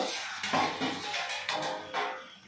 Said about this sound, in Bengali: আমি এবার ঢাকনাটা খুলে নেব।